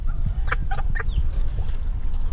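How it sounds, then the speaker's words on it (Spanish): Several hens, including Japanese, black, blue and ash-grey birds, cluck in short bursts over steady farmyard background noise, fairly close by. "Aquí tengo algunas gallinas"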